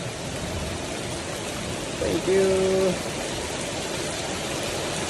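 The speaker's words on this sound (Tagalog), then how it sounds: "Kakusog sa ulan." Heavy rain pours steadily as a dense, constant hiss, loud and unbroken throughout, while a voice briefly speaks over it.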